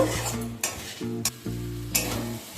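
Potato, papaya and soybean curry sautéed in a pan, with steady sizzling and periodic scraping stirs of a spatula at a close, moderate level, no voices.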